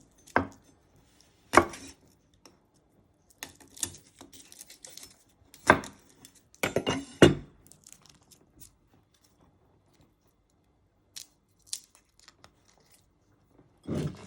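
A knife slices garlic on a cutting board, giving sharp, close chopping clicks in uneven bursts with quiet pauses between them and no speech.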